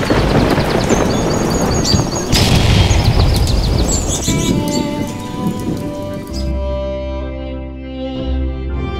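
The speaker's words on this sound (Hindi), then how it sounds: "तभी जोरदार बारिश और हवा चालू हो जाती है।" Heavy rain pours down hard and steadily over a farmer's crop fields, a loud, dense wash of drops that later thins beneath a tonal musical backdrop.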